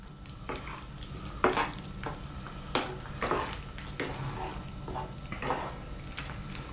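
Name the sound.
stirring cooked ingredients into chicken curry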